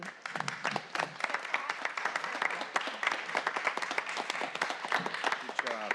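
Audience applause at a city council meeting, a dense, steady wash of many hands clapping that carries on without a break for the whole stretch.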